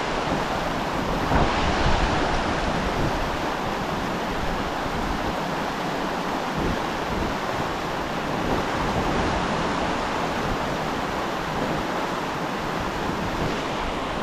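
Wind blows beside a fast-moving river, a continuous broad rushing noise with gusts buffeting the microphone, steady and fairly loud for the whole stretch with no voices.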